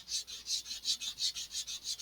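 Sandpaper rubs back and forth along the edge of an Estes Black Brant XII model rocket fin to bevel it, making about ten quick, even strokes that sound close but soft.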